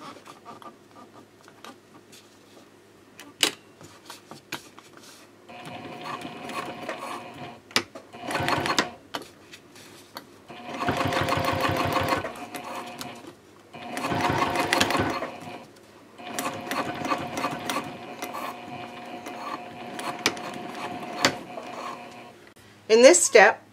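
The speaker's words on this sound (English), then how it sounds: "Then you can flip it over and top stitch on the other side." A home sewing machine top stitches fabric gussets on a sling bag, running in several bursts of rapid, buzzing stitching separated by pauses with small clicks and handling noises, close and fairly loud.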